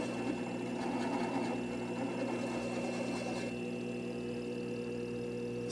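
A faceting machine does the final polish on a fluorite gemstone with a continuous mechanical hum and a soft whirring drone. A faint rasping texture runs through the first half, and no voices are heard.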